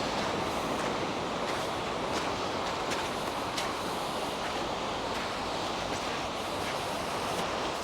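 Surf washing onto the shingle beach at Spurn Point, a steady broadband roar with wind buffeting the microphone, continuous and fairly loud with no voices.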